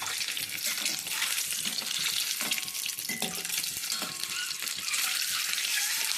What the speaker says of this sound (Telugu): ఇది ఎగ్స్ ఫ్రై చేసుకునేటప్పుడు కొంచెం జాగ్రత్త అండి. కొంచెం ఇట్లా ఫ్రై అవ్వాలి.